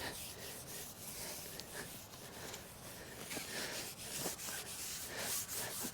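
Rusty metal frame rails being wiped down with a cloth to lift grease and oil, a steady close rubbing and scrubbing texture that continues with irregular strokes and no talking.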